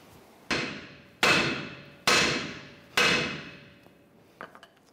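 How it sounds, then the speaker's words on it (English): Four loud metal hammer blows strike the steering knuckle of a 2011-2018 Ram 1500 to pop it loose during front inner axle shaft replacement, evenly spaced with ringing decay, then a few faint light taps. "we're going to go ahead and we're going to strike the knuckle here to release that."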